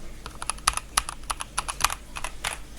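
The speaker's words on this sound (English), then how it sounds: "Here's me pressing my keyboard." Keys tapped on a computer keyboard in quick, irregular clicks, close and clear, with no talking over them.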